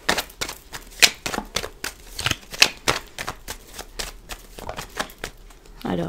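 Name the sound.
shuffling Lenormand fortune-telling cards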